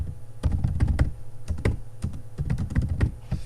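Keys clatter on a computer keyboard in quick irregular bursts, close and fairly loud, with short pauses between clusters of strokes and no talking.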